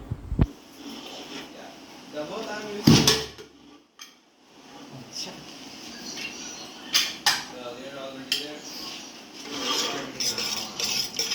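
A pressure cooker lid is opened on North Indian dal fry after two whistles. Close metallic clatter and a sharp clank come midway, with scraping and rubbing around them and a person talking throughout.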